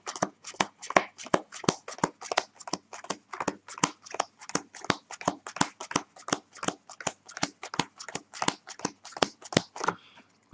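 Playing cards are counted out one at a time, each producing a crisp, close snap in a steady rhythm of roughly three per second, with no voices heard.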